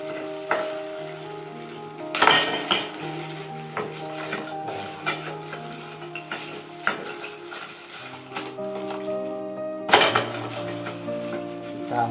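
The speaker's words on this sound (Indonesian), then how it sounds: "Kita masukkan es batunya itu." Ice cubes drop and clink into a homemade cough remedy, with several sharp, close knocks and rattles over a steady background.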